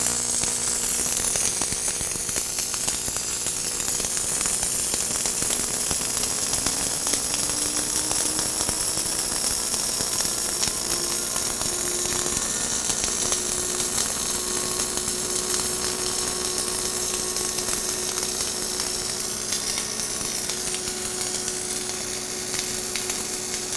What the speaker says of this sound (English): drop some flux onto our plate, and we're going to hit this button and start welding